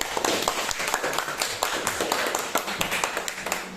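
A class clapping their hands in a lesson, a steady run of quick claps that keeps up throughout, moderately loud and close in a classroom.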